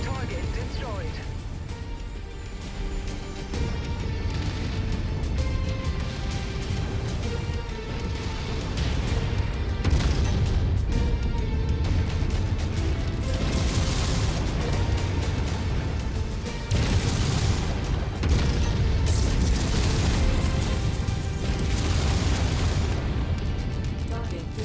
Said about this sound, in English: Target destroyed. Ammo explosion detected.